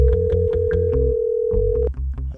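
Telephone line tone while calling someone: a steady, loud electronic tone holds for almost two seconds over layered music, then cuts off sharply.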